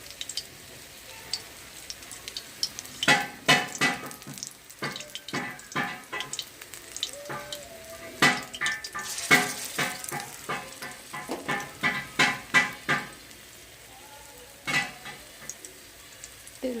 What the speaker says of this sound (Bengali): পকোড়াগুলো আমি একটুখানি বড় বড় করেই ভাজছি।